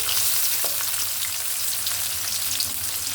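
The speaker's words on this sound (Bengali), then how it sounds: "মশলাটা আমি একটু ভেজে নিব পেঁয়াজ কুচিটা আমি দিয়ে দেবো" Spices and chopped onion fry for a beef curry, a steady close sizzle and crackle filling the pan with faint stirring scrapes and no talk.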